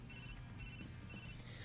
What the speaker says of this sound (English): Just then I heard a ringtone chiming from Rino's coat pocket.